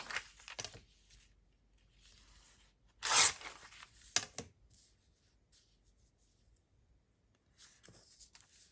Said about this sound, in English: This one did not print. So, it's only part of it. So I'm going to tear that.